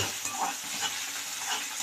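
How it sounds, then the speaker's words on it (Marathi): Onion and garlic sizzle in oil in a hot kadai while being stirred, a soft continuous frying hiss with faint scraping strokes, quiet and close with no voices. "कांदा आणि लसूण टाकून घेतलाय आपण। याला चांगलं फिरवून घेऊया।"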